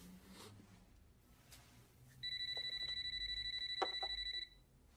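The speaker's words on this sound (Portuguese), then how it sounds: "O telefone tá tocando." Telephone ringing with a rapid, trilling electronic ring that starts partway in and continues for about two seconds, loud over a quiet room.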